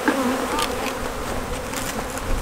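Honey bees buzz steadily around queen cells while queens are being raised, a dense close-up hum of many insects with no talking.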